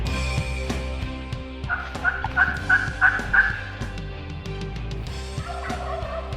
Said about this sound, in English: all of a sudden we got a gobbler